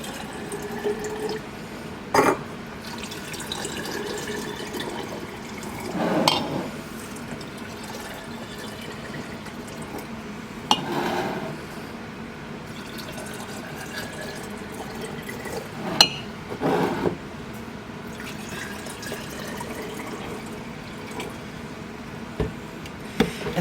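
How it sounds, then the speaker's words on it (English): A spoon stirs hot water and sugar in glass jars, making soft swirling liquid sounds with intermittent clinks and taps against the glass, close and quiet. "and then I'm going to give it a good stir."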